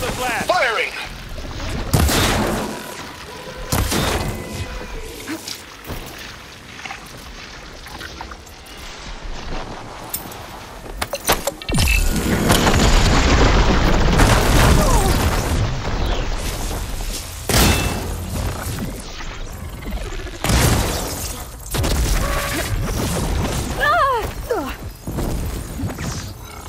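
Heavy combat in Horizon Forbidden West: loud explosions and bursts of gunfire, with one long rumbling blast in the middle, and in-game voices shouting between the impacts.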